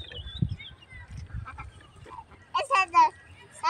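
A calf on a rural homestead lets out two or three short, wavering bleats near the end, preceded by quieter scuffling and faint talk from a child and an adult.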